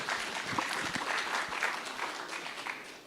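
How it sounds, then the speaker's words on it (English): A hotel design conference audience claps together in a dense, continuous burst of applause, close and full for about three seconds before easing slightly. "Please give them a round of applause."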